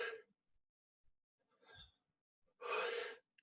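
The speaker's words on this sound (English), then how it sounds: "and it's a deep inhale" A deep inhale during a breathwork exercise, preceded by a few soft, short breaths and ending in one long, close, airy intake of breath heard alone.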